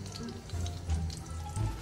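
Oil bubbles and sizzles in a pan as it heats for a homemade pasta sauce, a close, continuous crackle with low bubbling pops, no talking over it.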